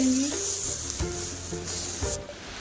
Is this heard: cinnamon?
yes